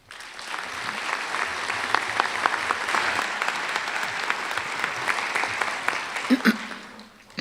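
Sustained applause from a commencement audience at a College of Nursing ceremony, dense, steady clapping for about seven seconds before it tapers off at the end.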